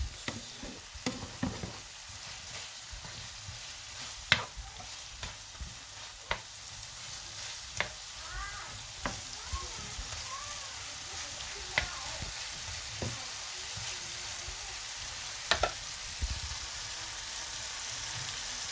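Eggs fry in a pan with softened tomatoes, peppers and onions for Egyptian shakshuka, giving a steady low sizzle with scattered pops and clicks, close by and unaccompanied by speech.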